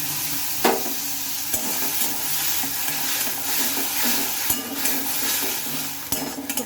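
Mustard and poppy seed paste is stirred into a bottle gourd curry in a pan over a steady sizzle, with a spoon scraping and clinking against the pot now and then.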